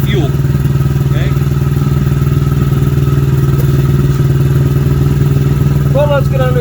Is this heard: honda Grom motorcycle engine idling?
yes